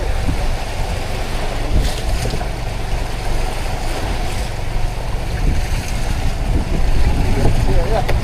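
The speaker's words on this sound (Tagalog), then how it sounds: "Salunga tayo sa alon na." Boat pushing against ocean waves on the Pacific, a steady, loud wash of water and wind rush with a low engine rumble running throughout, stronger near the end.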